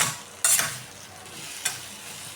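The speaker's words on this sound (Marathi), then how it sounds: "मिक्स करून घेऊया गूळ टाकून." Bitter gourd cooked with jaggery being stirred in a pan, with a soft sizzle and two sharp scraping strokes of a spoon against the metal and no talking.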